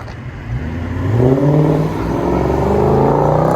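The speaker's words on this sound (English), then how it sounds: "Chrysler 300 with MAGNAFLOW MAGNAPACKS and a HEMI and 5 inch tips." A 2013 Chrysler 300 C with a 5.7L HEMI, Magnaflow Magnapack exhaust and 5-inch tips revs up, rising in pitch, dipping, then holding a deep, loud drone up close.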